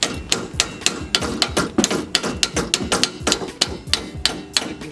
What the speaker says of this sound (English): line it up with the bolt down here and just try to hammer it back in